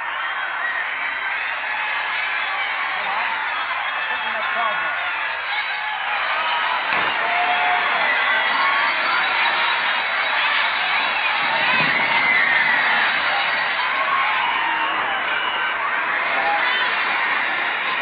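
A large crowd celebrating VJ Day downtown in 1945, a continuous roar of cheering, whoops and chatter heard from a distance through a narrow, old broadcast-quality recording.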